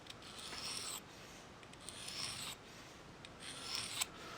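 A recurve knife blade drawn along a flat bench stone gives soft, rhythmic rasping strokes, three long scraping passes with brief pauses between them, quiet and close with no talking.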